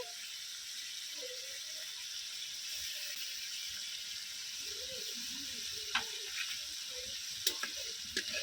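Masala and tomato paste sautéing in a pan for Bengali rui fish kalia, a steady close sizzle with a few sharp clicks of a spatula scraping near the end; no talking.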